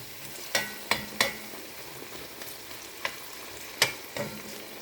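Food frying in a pan while a Jamaican-style steamed fish fillet dish is prepared: a steady low sizzle runs throughout, broken by several sharp, close utensil clinks at irregular intervals.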